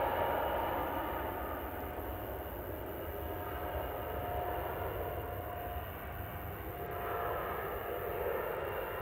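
Airliner on its takeoff roll at Manchester Airport, a broad steady jet roar heard from a distance, sustained and moderately faint, swelling slightly toward the end with no voices.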